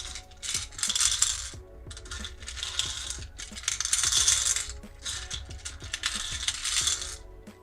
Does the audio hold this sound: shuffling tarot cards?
yes